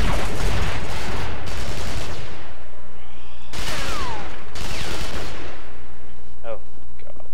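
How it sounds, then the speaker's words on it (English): Gunfire from a marksman's gun in Hellgate London rings out in several loud, sharp bursts with decaying echoes, separated by quieter gaps, with no talking over the shots. "I'll try not to talk when I'm shooting"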